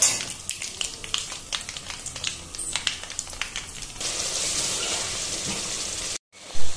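Tomato puree hitting hot oil tempered with asafoetida, a loud close sizzle with crackling bursts and stirring clatter that settles into a steady hiss, then cuts out briefly.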